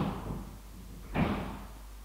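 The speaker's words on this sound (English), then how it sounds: "I bet that noise was the stool in the bathroom." A small stool falls over in a bathroom, giving a single muffled thud with a brief clatter midway, heard from a distance against a low room hum.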